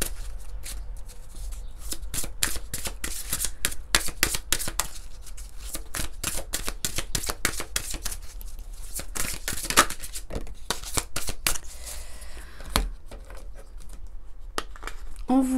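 Angel oracle cards are shuffled close up in rapid papery riffles and slaps, a busy run of crisp flicks with a few brief pauses.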